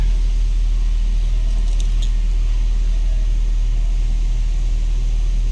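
A Ford EcoSport engine idles steadily just after starting, a constant low rumble with no breaks and a faint light jingle partway through.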